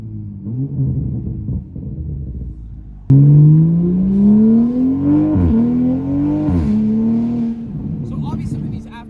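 A modified Toyota A90 Supra in sport mode with paddle shifters revs and accelerates loudly up close, its engine note climbing steeply through gears with sharp shift breaks, while a voice talks over the opening rumble.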